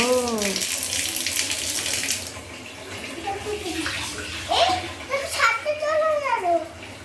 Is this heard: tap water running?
yes